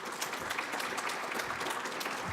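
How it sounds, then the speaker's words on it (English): An audience claps for the panelists at the close of a healthcare workforce panel session, a steady, moderately loud round of applause with no talking over it. "if everybody can give them a round of applause"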